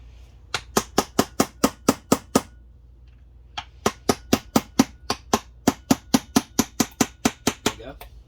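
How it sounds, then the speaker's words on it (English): A hammer taps an aluminum part during a 2005 Acura TL transmission teardown, striking in two steady runs of about a dozen sharp metallic knocks each, separated by a short pause, close and crisp. "You just take a hammer and tap in."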